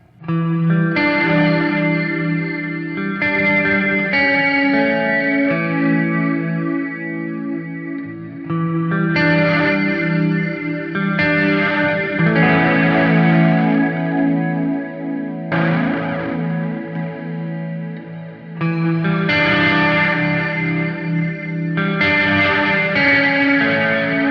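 Heavily processed electric guitar played through a distortion pedal into time-based effects plays sustained, distorted chords washed in chorus and echo, changing every few seconds in a thick, continuous wall of sound.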